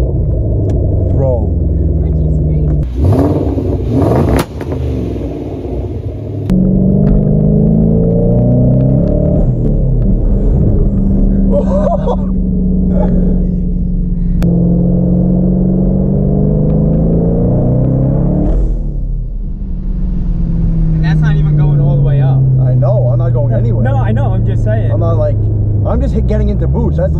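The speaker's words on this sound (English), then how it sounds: "I finally felt boost on a 2016 Mustang." An 800 hp twin turbo 2016 Mustang accelerating hard, loud engine rising in pitch through repeated gear pulls with brief drops at shifts, heard from inside the car as people talk over it.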